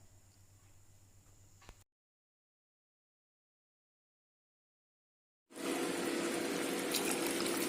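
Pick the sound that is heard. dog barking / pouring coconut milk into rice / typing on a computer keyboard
pouring coconut milk into rice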